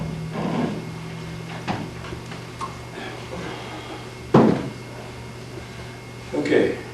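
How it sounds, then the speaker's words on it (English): A small chair is moved about indoors, giving a few scattered knocks and scrapes with one sharper thump near the middle and another toward the end, heard among light room noise. "let me get me a little chair here."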